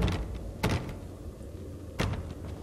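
In the horror video game The Park, a locked door is tried twice, two dull thuds and rattles spaced apart over a low, murky ambient drone.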